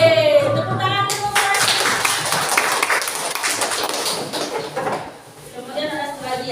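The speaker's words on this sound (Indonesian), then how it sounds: "tepuk tangan dulu." Pupils clapping their hands together in a classroom guidance lesson, a burst of fairly loud, close group clapping lasting several seconds, bracketed by a teacher's voice before and after.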